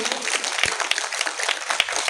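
A crowd applauds with dense, steady clapping that fills the whole stretch, a few sharper claps standing out.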